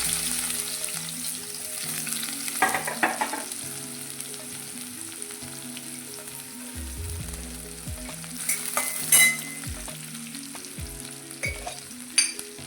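Chopped onion frying in hot oil with mustard seeds and cumin, a loud continuous sizzle close by with repeated stirring clatter and scraping in the pan, no talking.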